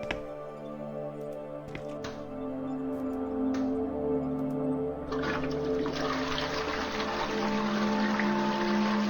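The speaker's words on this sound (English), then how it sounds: "That was a particularly prominent toilet flushing sound effect." A toilet flushes in a video game, a long steady rush of water that swells louder partway through and keeps running with gurgling, trickling wash; no talking.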